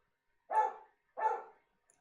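A dog gives two distinct barks about half a second apart, moderately close, with silence around them and no talk.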